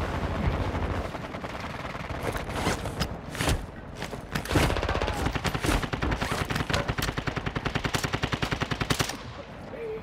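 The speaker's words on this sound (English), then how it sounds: "He heard us shooting." Sustained automatic weapon fire in Call of Duty: Modern Warfare II, heavy rapid bursts and rattling volleys of shots running almost continuously, loud and close, with a steady stream of repeated shots near the end.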